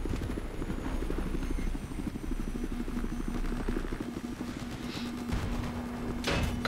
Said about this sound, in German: Der Heli schiebt da gerade so langsam runter.